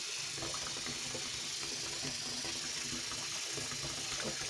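Tap water runs steadily from a faucet into a sink while a doll's hair is washed, a continuous broadband splashing with faint clicks, nearby and alone.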